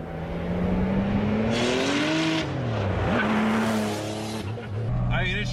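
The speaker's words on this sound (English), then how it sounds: "Too wide of tires, and now we have two of them spinning instead of just one." A boosted 1974 Porsche Carrera with wide rear tires spinning both wheels, giving a loud squealing tire howl over a revving engine whose pitch rises and dips, close and continuous, with voices faintly underneath.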